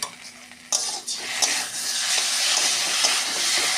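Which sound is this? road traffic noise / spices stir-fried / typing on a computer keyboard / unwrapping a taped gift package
spices stir-fried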